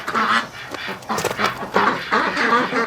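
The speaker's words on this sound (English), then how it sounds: "Oh, the place is full of ducks." A flock of ducks in a farm shed on a cold winter morning quacks and honks loudly in repeated, overlapping bursts, close by and continuous.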